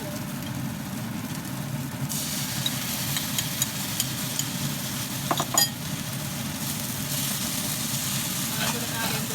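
Shrimp and asparagus stir-fry being stirred in a pan after the sauce goes in, giving a steady low sizzle and scraping that runs throughout, with a few sharper clatters midway.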